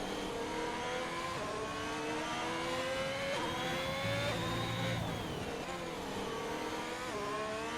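Racing engine of a Formula 1 car in the F1 2021 video game at the Spain circuit, a steady high-pitched whine that rises and falls with gear changes as the car takes the final corners, continuous and fairly loud without speech.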